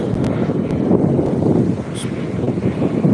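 Strong wind buffets the microphone in a steady, loud roar, with brief gusts and a faint high chirp partway through.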